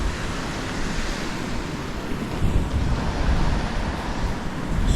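Calm sea surf washes continuously along the Yorkshire coast at high tide, a broad steady rush with gentle swells and some wind buffeting on the microphone.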